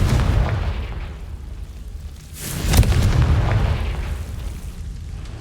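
A Confringo blasting spell in Hogwarts Legacy, a loud deep boom that swells and bursts with a crackling blast, then a rumbling tail that slowly fades, with no voices.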